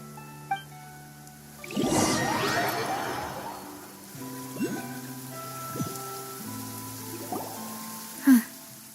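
Steady rain falling in a video game scene, a soft even patter that swells after a couple of seconds and continues under musical tones and other game sounds, with a sharp click near the end.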